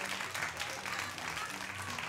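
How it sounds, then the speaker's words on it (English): Audience clapping at a live hypnosis stage show, a moderate continuous patter heard at some distance over a low background hum, with faint voices mixed in. "Give them a little applause there while they're surfing."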